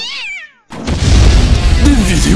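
A cat gives a short, rising-and-falling meow, then after a brief silence a loud, dense wash of mixed noise takes over.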